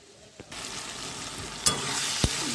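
Food cooking in a pan starts sizzling after a brief quiet moment and holds a steady hiss, broken by a couple of sharp clinks from stirring, with no one speaking.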